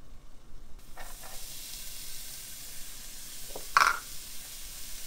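A small diced onion sizzling in a hot pan, a steady close hiss throughout with a few faint utensil taps and one brighter clink near the end, no talking.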